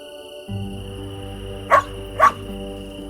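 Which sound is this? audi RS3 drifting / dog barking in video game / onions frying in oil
dog barking in video game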